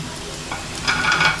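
Onion, tomato and green chili frying in a pan, a brief close sizzle that swells as the vegetables are stirred, with no talking.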